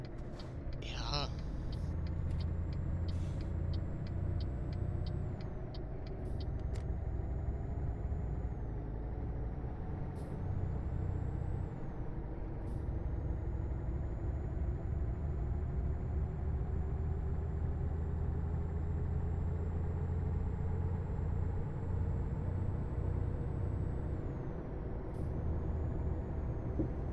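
Truck engine in Euro Truck Simulator 2, a continuous loud diesel drone with slowly rising pitch as it accelerates, a short air brake hiss near the start, and people talking intermittently over it.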